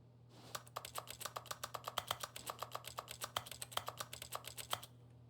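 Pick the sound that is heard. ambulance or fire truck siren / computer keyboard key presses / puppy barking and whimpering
computer keyboard key presses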